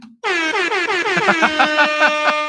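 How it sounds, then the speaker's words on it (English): A long, loud air horn blast sounds alone, a bright blaring chord held for over two seconds with slight wavering pulses near its end. "I'll play the air horn because we'll be pretty excited and pumped up."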